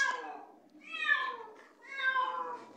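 A cat in Minecraft meows repeatedly, with three drawn-out, whiny cries close up and clear, separated by short pauses.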